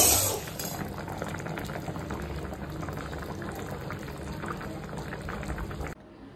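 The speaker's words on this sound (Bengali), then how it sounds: "এখানে পেঁয়াজটা ভাজছি।" Onions frying in a little oil in a pan after potatoes were fried, a steady bubbling sizzle that starts with a brief louder burst, then holds evenly before stopping abruptly.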